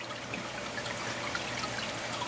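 Inside the tank of a Clone King cloning machine, a small sprayer shoots water up onto plant roots, giving a steady, even hiss of spray and trickle that holds without a break, heard up close with no voices.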